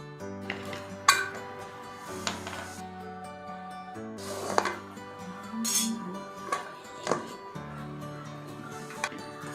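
A pressure cooker holding chicken keema biryani is set down on an old tawa, giving a few soft metallic clinks and knocks over a low steady kitchen hum.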